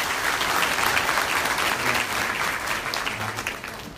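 Audience applause at a live trading seminar in Bangkok, a dense, steady wash of many hands clapping that holds throughout at even loudness, with no talk over it.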